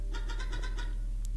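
A single cat meow from the card game Inscryption, a short, clear, close cry with a plaintive rising and falling tone, set over a low background hum.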